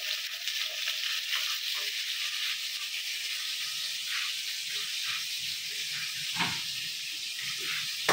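Food fries in a pan with a steady, close sizzle and hiss throughout, broken by a few soft stirring scrapes.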